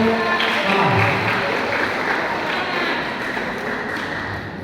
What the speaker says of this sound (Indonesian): Kita beri aplaus untuk kelompok A.